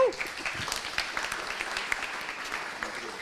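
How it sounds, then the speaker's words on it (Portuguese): An audience at a Drupal tech talk claps for the speaker, a moderate, scattered round of clapping heard from a distance that stays fairly even throughout. "salva de palmas para ela de novo"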